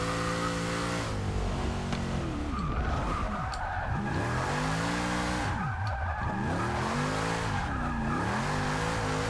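A Chevrolet Impala lowrider drifts in Forza Motorsport 6, its engine droning and revving while the tires squeal in long, wavering skids through a corner, loud and continuous.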